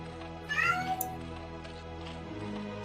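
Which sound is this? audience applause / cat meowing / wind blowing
cat meowing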